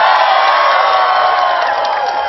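A large crowd of thousands cheers steadily at a political rally in Lindsey Graham's hometown of Central, South Carolina, a dense, loud roar of voices and whoops sustained without pause.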